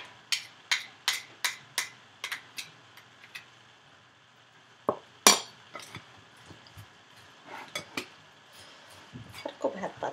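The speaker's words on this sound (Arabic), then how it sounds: "نحاولوا اننا نحركوا بشويش باش ما تهرسش لينا البطاطا" A utensil scrapes and clinks against a bowl as potato salad is stirred gently, giving a series of sharp, irregular taps with brief pauses between them.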